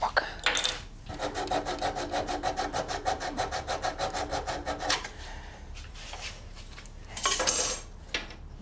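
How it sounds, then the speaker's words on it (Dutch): A small hand saw cuts through wood in a steady run of about twenty quick back-and-forth strokes, close and clear, then stops, followed by some brief scraping and handling noises. "Zaagje pakken."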